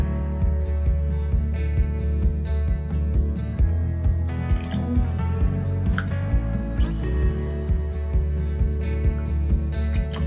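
Water is poured by the tablespoon into gloss polymer varnish for mixing, a series of small splashing drips over a steady low background hum.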